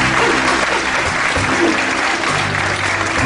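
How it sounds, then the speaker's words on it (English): An audience at a music event gives a big round of applause, a loud, continuous roar of clapping with a low murmur of voices underneath. "Give them a big round of applause, ladies and gentlemen"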